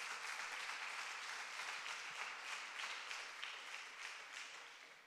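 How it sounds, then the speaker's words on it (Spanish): A church congregation gives a steady, sustained round of applause for the Lord Jesus Christ, dense clapping filling the room evenly from start to finish with no voices on top. "Denle un fuerte aplauso al Señor Jesucristo"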